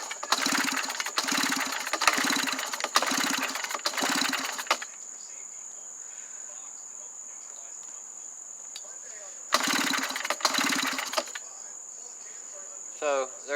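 A Stihl BR420 backpack blower's starter cord is pulled several times in quick succession for a compression test, each pull a rasping whir, followed by a pause with steady insect buzz in the background and another burst of pulls.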